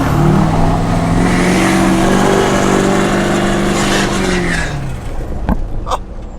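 Duramax diesel pickup engine revving: a loud, sustained engine drone that holds steady, then winds down and fades, ending with a couple of faint knocks.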